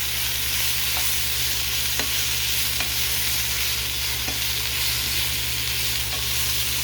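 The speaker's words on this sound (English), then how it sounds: "Give it a stir." Cranberries frying in a pan give a steady sizzle over the constant hum of a kitchen fan, with soft scrapes of stirring every second or so, close up and with no talking.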